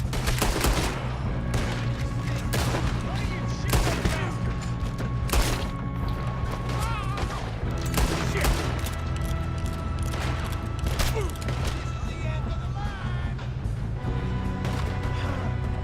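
Gunfight in Red Dead Redemption 2, with repeated loud gunshots cracking at irregular intervals through a continuous din of battle noise.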